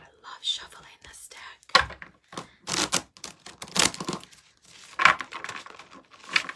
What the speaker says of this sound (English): I love shuffling this